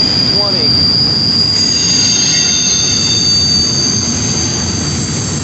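An empty FEC freight train rumbles steadily past on the rails in Titusville, loud and close, with high metallic wheel squeals ringing over the heavy roar.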